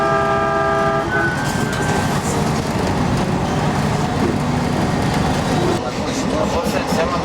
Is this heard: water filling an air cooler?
no